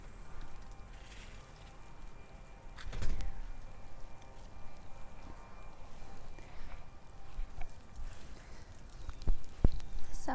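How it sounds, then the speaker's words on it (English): Light rain falls outdoors in a backyard, soft scattered patter with occasional small taps and rustles, quiet and close, with no voices. "It's kind of raining a little bit."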